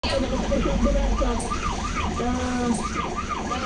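Wailing ambulance siren at a tourist bus hostage scene in Manila, rising and falling in a repeating cycle over loud street noise and voices.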